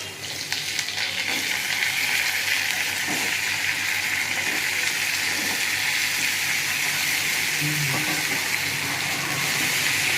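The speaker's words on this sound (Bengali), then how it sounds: "এবার আমি কেটে রাখা সবজিগুলো দিয়ে দিই।" Chopped pui shak, pumpkin, potato and tomato sizzle loudly in a frying pan, a dense continuous hiss with faint scraping and stirring beneath it and no voices.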